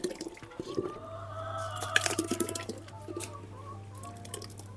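Liquid fertilizer being diluted and mixed with water for grape vines, gurgling pours and splashes with scattered drips, fairly quiet and close, a steady low hum beneath, no talk.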